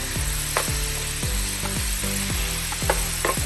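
Pork chops frying in a pan on a home stovetop give a steady, close sizzle with no talking, broken by several short scraping knocks as the meat is moved and turned.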